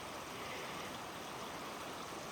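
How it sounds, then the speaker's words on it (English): A tiny creek near Icicle Creek in Washington flows steadily nearby, a constant broadband rush of running water with no talk. "So we crossed a tiny creek"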